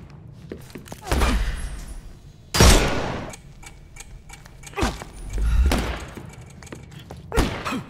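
Gunfire in a Sherlock Holmes video game: several heavy, booming shots in separate bursts, each a sharp loud thump with a ringing decay, spread across the stretch with quieter gaps between.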